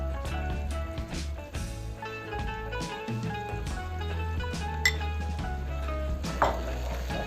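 Spoon stirring kashk into a pot of cooked eggplant (kashk-e bademjan), with clinks and scrapes of metal against the pot over steady background music, no talking.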